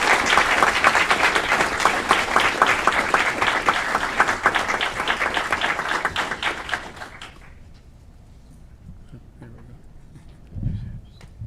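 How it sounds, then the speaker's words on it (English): Audience applause at a mayor's award of excellence presentation for a city staffer, a loud, dense burst of clapping that fades out after about seven seconds into quiet room tone with a brief low thump near the end. "Let's give him a big round of applause for making us proud."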